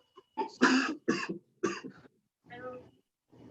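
Several harsh coughs come in quick bursts, followed by softer throat-clearing sounds, close to the listener.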